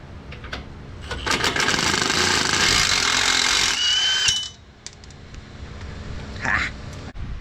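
Engine mount bolt being removed on a Can-Am Outlander 1000, heard as a loud sustained power tool whir lasting several seconds, then clicks and metallic handling as it stops, with talk nearby.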